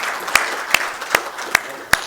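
An audience at a literary event in Jodhpur claps in unison, five sharp, evenly spaced claps in a steady rhythm over a soft background murmur.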